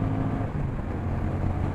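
A 2024 Honda Rebel 1100 motorcycle cruises in third gear at 60 mph, its steady low engine drone heavily mixed with rushing wind noise on the microphone, loud and unbroken throughout.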